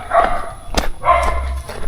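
A dog barks near a lone house deep in the forest, with a few loud, close barks in short bursts and no one talking.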